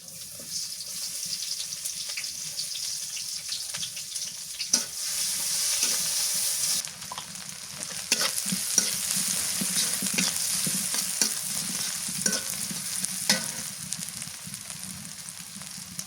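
Chopped onion frying with hilsa fish and green banana in a pan, a steady close sizzle with stirring scrapes and occasional clinks running throughout, no talking.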